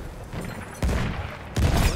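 Mines lying on a track are blown up in the Battlefield 1 battlefield, two sharp blasts about three-quarters of a second apart, each a broad burst that lingers over steady combat noise.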